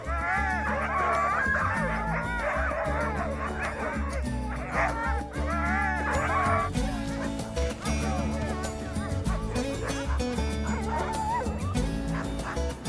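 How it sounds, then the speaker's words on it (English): A sled dog team in Auyuittuq Pass in Canada's Arctic barks and yips excitedly, with overlapping calls and whimpers sounding steadily throughout, set against a continuous musical backdrop. "Dog teams can pull a sled loaded with supplies for 10 hours a day."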